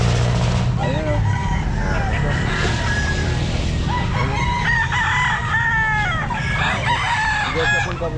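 Chickens and roosters crowing and clucking at the Grotto pet market, several calls rising over a constant busy crowd hum with people talking nearby and a faint vehicle passing.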